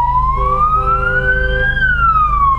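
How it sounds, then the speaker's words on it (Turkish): An ambulance siren on a road, loud and steady, its tone gliding slowly up and then falling back, over continuous low traffic rumble. "Yoksa ambulans geliyor, yol verelim."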